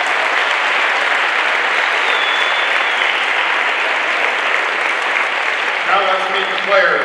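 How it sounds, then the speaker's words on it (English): Sustained crowd applause fills a basketball gym during pregame ceremonies, a dense, even wash of clapping that holds steady throughout, with a voice over the public address rising near the end. "Let's give everybody a round of applause."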